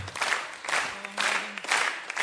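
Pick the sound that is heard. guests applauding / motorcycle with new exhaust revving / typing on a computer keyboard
guests applauding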